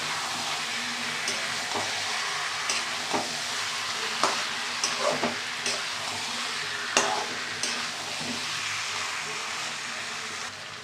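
Goat meat frying with roasted cumin powder, a continuous close sizzle broken by repeated scraping strokes of a spatula stirring the pan, with no talk.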